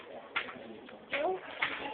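Pet bird cooing: a few soft, low coos spaced across a couple of seconds, close and fairly quiet, with faint background noise.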